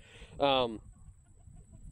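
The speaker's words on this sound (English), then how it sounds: "The chickens were just going after something," Chickens in a backyard garden give a short burst of clucking that lasts about a third of a second and is fairly close. Quiet background follows it.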